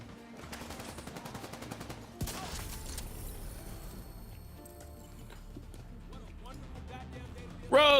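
In The Division 2, automatic gunfire rattles off in a fast, even burst, then a sharper shot cracks out and more shots follow over a busy bed of game sound effects.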